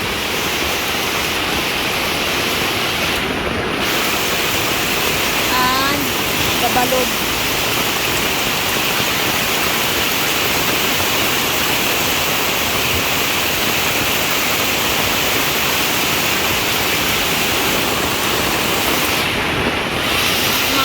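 Loud, steady rush of floodwater fills the whole stretch, a dense roaring wash with a brief voice speaking over it.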